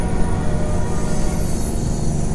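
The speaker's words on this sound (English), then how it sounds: "There goes the train." In American Truck Simulator, a passing train makes a steady, loud rumbling roar with a dense low-end wash and faint high whine, continuous throughout with no voices.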